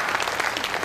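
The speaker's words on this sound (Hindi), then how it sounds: "तालियां बजाइए इनके लिए" A short burst of crowd applause at a poetry recital, brisk and continuous clapping from many hands.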